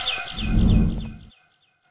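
Bird chirping from the video game Garten of Banban 7: a burst of bright, repeated tweets over a low rumble for about a second, then cutting off abruptly into silence.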